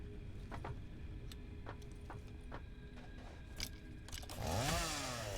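A chainsaw running in the factory-building game Satisfactory: a low, steady engine drone with scattered metallic clicks and ticks, ending in a louder revving rise and fall near the close, with no speech.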